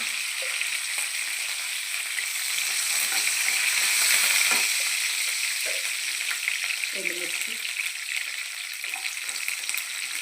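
Curry leaves and cumin seeds crackle and sizzle in hot oil with garlic in a pan, a steady close frying hiss broken by occasional pops and brief stirring scrapes.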